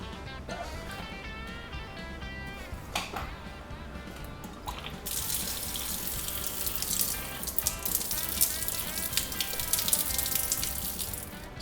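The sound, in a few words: water draining from house piping out of open valve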